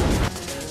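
Missile explosion in a video game, a single loud crashing boom in the first moment that drops abruptly into a lingering rumble.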